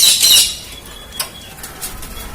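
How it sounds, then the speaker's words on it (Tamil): Karunai pigeons in an indoor pet room beat their wings in a short, close burst of flapping, then the room settles into quiet with a few faint, brief chirps. "இது ஃபுல்லாக கருணை புறாங்க."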